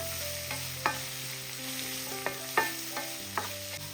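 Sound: onions sautéing with cumin and turmeric on medium flame

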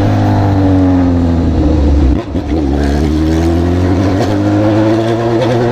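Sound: motorcycle engine revving with exhaust eliminator (straight pipe)

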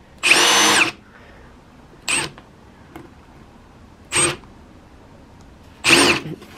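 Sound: power drill with hole saw boring a hole

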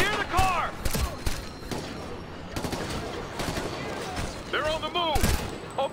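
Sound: gunfire in video game Ghost Recon Future Soldier

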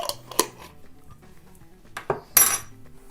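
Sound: stirring food in a bowl

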